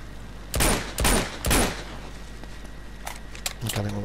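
Three loud gunshot bursts at a steady beat ring out in the Uncharted 2 Among Thieves Remastered video game, followed by fainter clanks and a few softer impacts over a constant low hum.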